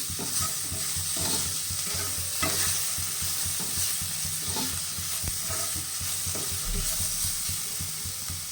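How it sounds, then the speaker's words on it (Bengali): Brinjal slices fry in a pan with a steady broadband sizzle, punctuated by intermittent scraping and stirring clatter from a utensil, close and continuous with no talking. "আমার বেগুনটা ভাজা ভাজা হয়ে গেছে"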